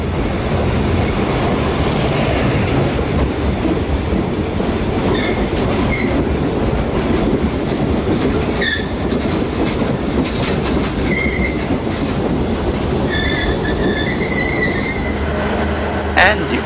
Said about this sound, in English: Here is the opposite Ekspres Rakyat Timuran arriving from Tumpat to JB Sentral. It is hauled by a 24 class, number 24107